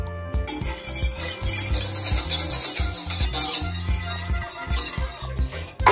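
A spoon stirs a chocolate dessert mixture with a little sugar in a bowl, producing steady repeated scraping and clinking against the bowl at close range.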